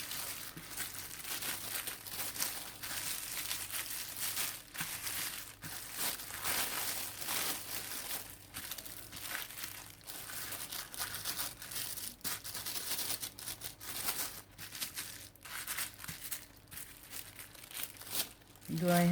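A Ziploc bag holding paper and paint for an art journal page crinkles and crumples in repeated close bursts of rustling, with speech weakly present.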